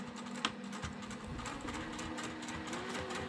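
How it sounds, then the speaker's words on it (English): A home sewing machine stitches across a quilt's mitered border, running briefly and then back stitching, a steady close mechanical whir with light rapid clatter and no talk. "I'm going to take a few stitches and then back stitch."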